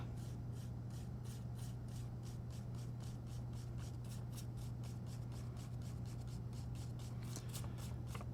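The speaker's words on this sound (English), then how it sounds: "I'm going to brush all of the feed and tracer particles that are caught onto the filter paper" Feed and tracer particles are brushed off filter paper into a small cup: a rapid, regular series of soft scratchy bristle strokes close up over a steady low hum, with no talk.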